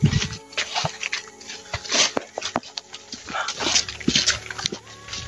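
Several dogs whimper, yip and bark in a busy, noisy outdoor scene, with scattered clatter and movement throughout.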